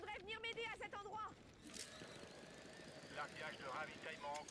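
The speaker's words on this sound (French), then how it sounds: "L'hélico il se ravitaille là." A helicopter in a multiplayer shooter video game hovers while refueling, giving a steady mechanical drone under a player's loud, close talking.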